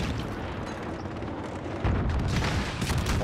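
A grenade detonates in Call of Duty: Modern Warfare, a sudden loud booming burst that breaks through a steady rushing game din and rumbles on for over a second.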